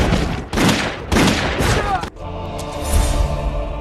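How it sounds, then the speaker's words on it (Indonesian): A film gunfire exchange erupts in loud, close bursts of rapid shots, several heavy volleys in quick succession followed by a lingering, echoing rumble. "hingga pada akhirnya mereka saling baku tembak."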